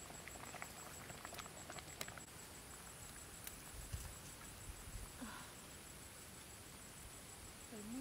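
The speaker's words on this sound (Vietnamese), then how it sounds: "Ôi, trời đang mưa các bạn cún ơi." Steady outdoor rain patter falls lightly over a broad, even hiss, with scattered small clicks and taps on nearby surfaces and no talking.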